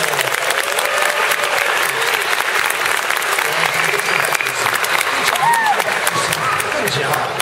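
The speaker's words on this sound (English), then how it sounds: "Everybody clap for JoJo." A children's party audience claps for JoJo at a clown show, dense loud applause running steadily throughout with voices talking and cheering underneath.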